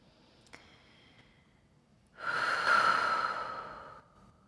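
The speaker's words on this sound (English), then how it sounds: "One more round of breath." A single long, audible exhale during a gentle yoga flow, rising after a quiet pause and holding for nearly two seconds before fading, close and soft with no talking.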